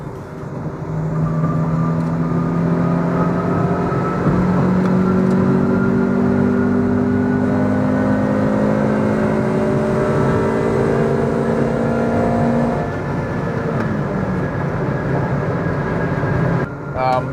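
Honda Civic EK9 engine revving while driving, a steady, fairly loud drone with rising pitch sweeps as the revs climb through gears, continuous for most of the stretch before easing near the end.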